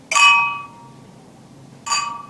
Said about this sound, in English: when you're clinking glasses, you want to clink